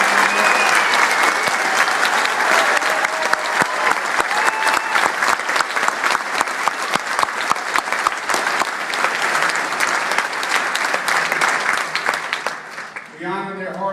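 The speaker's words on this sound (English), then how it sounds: "Let's give them a round of applause." Sustained applause from a large crowd at a New York State Police trooper graduation ceremony for new recruits, dense steady clapping for about twelve seconds before tapering off at the end.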